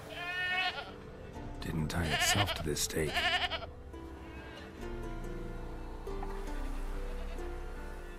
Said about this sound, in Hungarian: Ott is van a kecske. Mekegi.